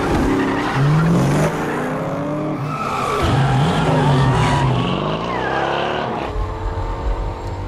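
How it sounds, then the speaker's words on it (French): A racing car in a movie skids as its rear wheels lock, producing loud, wavering tire squeals over a roaring engine that sweep up and down across several seconds, close and continuous. "on voit voilà, des moments où les roues arrière bloquent comme ça"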